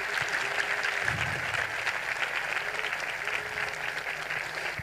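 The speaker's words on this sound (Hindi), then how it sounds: "सारे जोरदार तालियां खुदावंद के जलाल के लिए।" A church congregation applauds loudly and continuously during a sermon, a dense, even wash of clapping that fills the whole clip.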